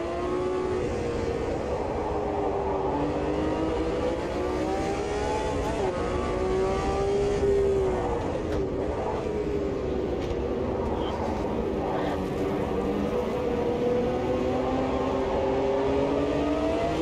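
A V12 race car engine in the Automobilista 2 racing game holds a loud, steady drone throughout, its pitch rising and falling gently as revs shift, with no talk over it.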